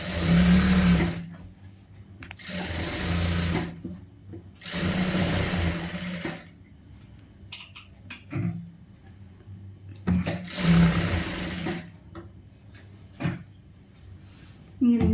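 A sewing machine stitches a churidar sleeve in short loud bursts of rapid mechanical whirring, separated by pauses with handling clicks and faint rustling of fabric.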